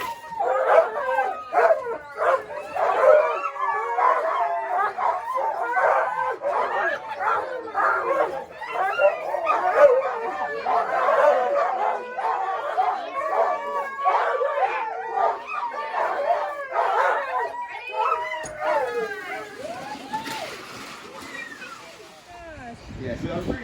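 A crowd of sled dogs in Skagway, Alaska, barks, yips and howls in a dense, loud, unbroken chorus at close range, with excited whines mixed in throughout.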